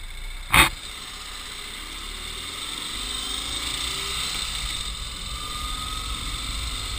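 A 2024 Ural motorcycle with sidecar runs steadily with a low, even engine drone, preceded by a brief sharp click near the start.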